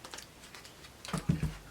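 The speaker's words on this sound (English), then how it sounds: "Or they can even shuffle the cards like this." A deck of playing cards is riffle shuffled nearby: a brief burst of quick fluttering card clicks near the end, following a stretch of faint soft handling noise.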